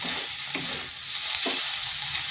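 Potatoes frying in a pan with no water, giving a steady, close hiss with two brief stirring scrapes at intervals.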